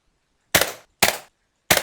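Nerf pump shotgun firing in a Minecraft gun mod: three sharp, loud game gunshot blasts, each with a short decaying tail, spaced roughly half a second to a second apart with silence between.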